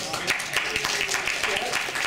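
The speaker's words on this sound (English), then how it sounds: "give it a big applause, please" Audience applause at a talk on conflict, a steady wash of many hands clapping close and fairly loud throughout, with voices mixed in underneath.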